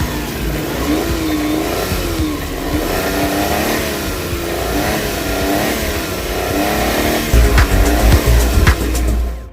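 A Suzuki Multicab with a fuel-injected F6A engine and an ECM low-power, throttle-delay fault revs loudly and close, its pitch wavering up and down steadily before a harder, rougher burst of throttle near the end.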